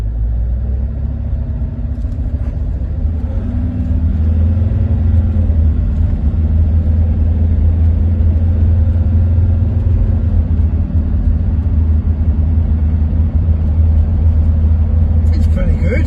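A Land Rover Discovery recovered as a field find, barely driven for about seven years, rumbles along a public road with a steady low engine and road drone from inside the cabin. Someone talks over it at times.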